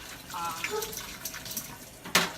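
Warm tap water runs in a tub as items are rinsed and scrubbed, with soft trickling and splashing, a few clinks, and a sharp splash near the end; quiet and close.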